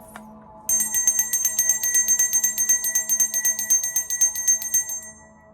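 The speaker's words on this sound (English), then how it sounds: "We welcome in the ancestors every time we ring the bell." A small bell is struck once, then rung rapidly and repeatedly in a bright, shimmering metallic stream during a chakra meditation, loud and close over a faint low hum, with no talking.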